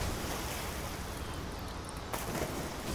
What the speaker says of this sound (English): Using the waterfall again.